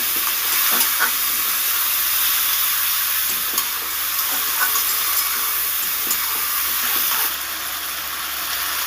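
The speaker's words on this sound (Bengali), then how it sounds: "সুন্দর করে মশলা দিয়ে আলু ঝিঙে আর ডাটাটাকে কষিয়ে নিলাম" Potato, ridge gourd and stems frying with spices, with small splashes of water added: a loud, steady sizzle and hiss close by, with occasional stirring scrapes that ease slightly near the end.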